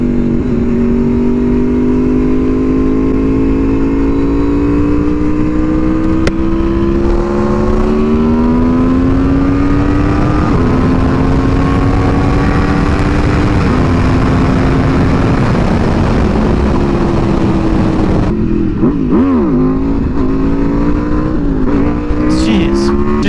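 An Aprilia motorcycle engine revs loudly as it accelerates through rising pitched sweeps with shifts, wind roaring close, then the throttle chops near the end.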